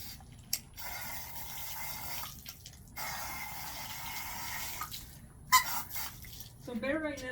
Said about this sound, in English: I'm gonna rinse off my hands a little bit